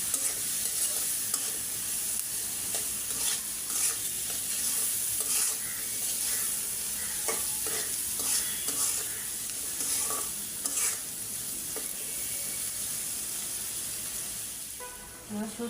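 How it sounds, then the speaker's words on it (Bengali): Close, continuous sizzling of dried fish frying with spices in a pan, broken by repeated scraping stirs of a utensil throughout. "আমি এই মশলাগুলোর মধ্যে শুটকিটা ভালো করে আরেকবার ভাজা নিব"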